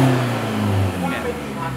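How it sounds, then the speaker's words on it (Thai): A car engine revs hard as the accelerator is pressed all the way to the floor during an emissions-style check, a loud sustained roar close by with talk over it. "ลองเหยียบคันเร่งแบบสุดถึงแป้นเลยนะแล้วยกไม่ได้เหยียบแช่"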